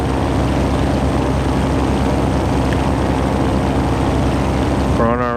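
A float plane's propeller engine drones loud and steady while flying a downwind leg in the Prepar3d flight simulator, with a brief voice appearing at the very end.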